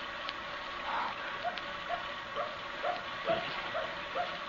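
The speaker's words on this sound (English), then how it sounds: "There's that dog again." A dog yips and barks faintly in the distance, short repeated calls spaced about a second apart over quiet background.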